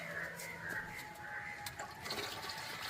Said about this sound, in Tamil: ஸோ இன்னும் கொஞ்சம் தண்ணி ஊற்றலாம்